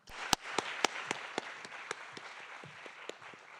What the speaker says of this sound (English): Now, Ms. Nakamitsu, please welcome her with a big round of applause.